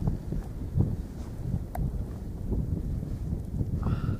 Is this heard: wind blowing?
yes